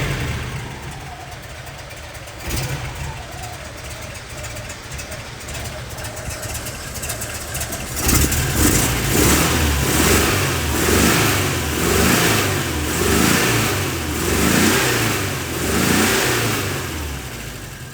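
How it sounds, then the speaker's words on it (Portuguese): Flat air-cooled engine of a 1972 Volkswagen Variant idling with a steady putter, then revving up in several rising, surging bursts that swell and fall back, fairly close and loud. "sempre me fez ser apaixonado pelo motor plano, porque realmente ele é bem mais silencioso, ele é mais eficiente"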